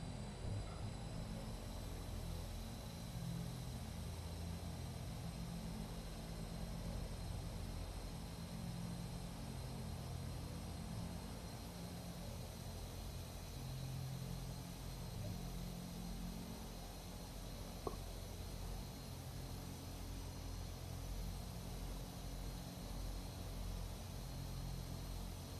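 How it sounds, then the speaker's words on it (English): An Aerosoft airplane taxiing in Microsoft Flight Simulator 2020 gives a steady, faint engine drone with broadband hiss that holds even for the whole stretch, with one small click partway through. "I'm here flying a plane from Aerosoft"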